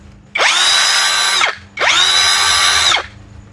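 A cordless brushless drill runs twice in a row, each burst rising quickly to a steady, smooth whirring whine, holding about a second, then spinning down, close and loud with a brief gap.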